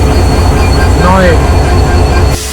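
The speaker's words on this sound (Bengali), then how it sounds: "ঠিক 4 মিনিট পরে আমাদের ট্রেনটি ছেড়ে দিল নাটোর স্টেশন থেকে" The Banglabandha Express, running between Rajshahi and Panchagarh, pulls out of Natore station with a loud, constant rolling rumble and a brief rising-and-falling squeal midway before the sound cuts off abruptly.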